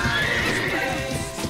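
An armored warhorse neighs loudly and steadily in the LiF MMO video game, a close, sustained whinny over a dense battle din.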